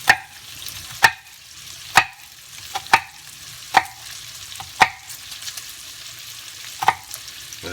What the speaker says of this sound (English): Slice them like this.